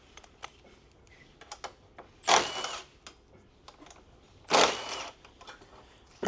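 Impact gun with a 10 mm socket zipping out bolts from the core support of a G35/G37 sedan; two short, loud whirring bursts close up, with scattered clicks and handling noises in between.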